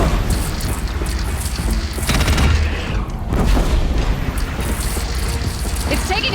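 An enemy machine in Horizon Zero Dawn fires heavy, booming shots in a continuous loud barrage with crashing impacts, with a voice speaking faintly beneath it.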